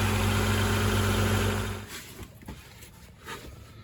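A Honda Integra engine idles with a temporarily patched exhaust, a steady low rumble running loud for almost two seconds before dropping to a quieter, uneven murmur with faint knocks.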